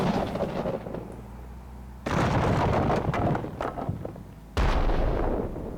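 Cannon blasts from a SpongeBob Battle for Bikini Bottom game mod: two loud, booming shots with rumbling tails ring out over a noisy background, the second arriving a few seconds after the first.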